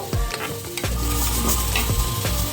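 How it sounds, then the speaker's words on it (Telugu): Tempering spices (popu) sizzle loudly in hot oil for an Andhra-style raw fish curry, a steady dense crackle with a few sharp stirring scrapes and bursts near the start, close and continuous throughout. "కొంచెం ఇలా పోపు వేసుకుంటామండి"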